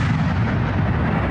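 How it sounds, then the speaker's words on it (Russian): Heavy, booming blasts from a French TRF-1 towed howitzer in Ukrainian service at the front, a continuous loud, rumbling roar filling the short stretch with no speech over it. "Французская гаубица на вооружении украинцев бьет четко, интенсивно, результативно."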